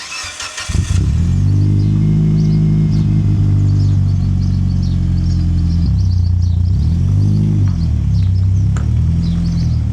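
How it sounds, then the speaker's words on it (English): Mitsubishi Evo 9 Wagon cold start: a short cranking clatter, then the engine catches and settles into a loud, close, steady high idle with a slight dip and recovery in revs. "Let's get a cold start, eh?"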